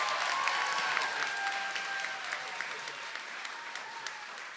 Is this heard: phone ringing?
no